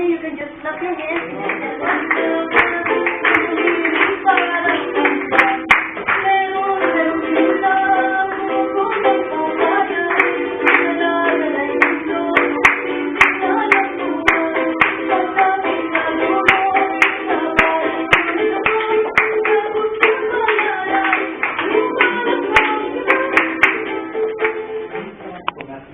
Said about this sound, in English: If you want to join me, you can just clap your hands.